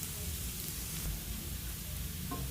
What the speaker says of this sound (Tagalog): Ako pa nagisa ako, kailangan unahin ko yung bawang.